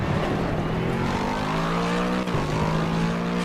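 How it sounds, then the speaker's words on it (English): Race car engine from the Assetto Corsa Competizione racing game, a steady loud throaty drone with sustained harmonic tones holding nearly constant pitch, a brief dip and shift partway through. "She's got a very throaty sound to her, almost like the Mercedes AMGs do."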